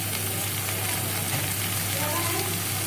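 Ginger, garlic, turmeric and salt sizzle in a frying pan for a bottle gourd stir-fry, a steady loud hiss of frying oil running throughout with no pauses.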